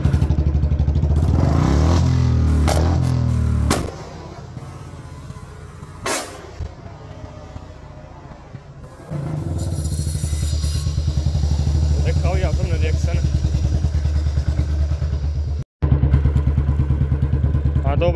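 A Royal Enfield Bullet 350 motorcycle rumbles close by, its exhaust letting out a few sharp cracker-like pops among steady engine drone and revving, with a brief cut near the end.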